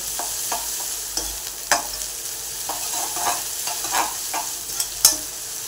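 Chopped onion and capsicum stir-fry over medium heat for schezwan fried rice, giving a steady close sizzle broken by repeated scraping clicks of a spatula against the pan.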